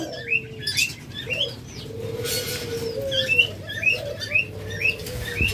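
Caged lovebirds, budgerigars, cockatiels and doves chirp and tweet in a busy aviary, short bright calls repeating over a low murmuring coo, with an occasional wing flutter.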